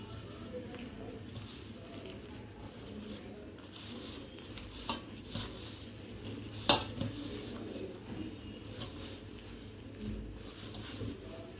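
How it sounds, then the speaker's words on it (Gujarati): Gathiya dough ingredients being mixed in a bowl, with intermittent scraping and clinking of a utensil against the bowl, a few sharper knocks standing out over low room noise. "બધું મિક્સ કરી દઈશું."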